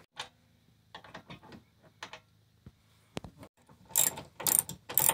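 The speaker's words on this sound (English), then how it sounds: "He's using the ratchet wrench to tighten it down even more." A ratchet wrench tightens a bolt while fitting a swivel seat in an RV, giving short bursts of quick clicking separated by pauses, growing louder and denser toward the end.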